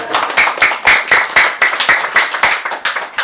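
Temple congregation at Yeonhwa Temple clapping during a monk's Dharma talk, loud, close, rhythmic claps in a brisk even beat with no voices over them.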